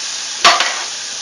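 Mushrooms drop into a pot of sizzling bacon: a steady hiss of frying fat, then a sudden louder crackling burst as they hit, settling back into an even sizzle.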